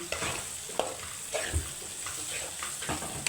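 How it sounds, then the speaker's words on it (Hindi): Okra goes into a pan of lightly fried onion and spices and cooks there, giving a steady moderate sizzle with occasional stirring scrapes and clinks. No speech is heard over it. "मसाले डालने के बाद हल्का सा भून के मैं डाल लूँगी इसमें भिंडी"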